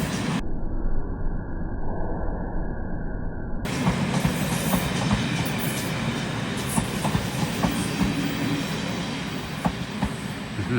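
A passenger train rolls past close by in a steady, loud rumble with rhythmic clickety-clack of wheels over rail joints and occasional faint wheel squeal, no voices.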